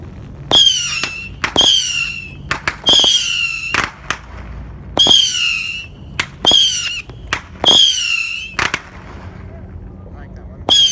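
Missile fireworks shoot off one after another outdoors, each a sharp whistling screech ending in a pop, with several sharp bangs in between and voices talking in the background.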